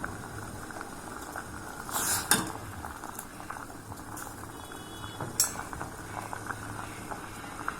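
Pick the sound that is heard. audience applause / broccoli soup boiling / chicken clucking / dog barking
broccoli soup boiling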